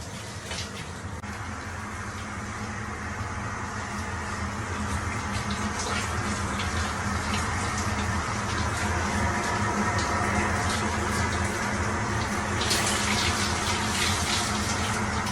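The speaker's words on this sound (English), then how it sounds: "when you have a shower on a plane" A shower runs aboard an airplane, with steady hissing water spray and a constant low cabin hum, gently swelling and staying level throughout with no talking.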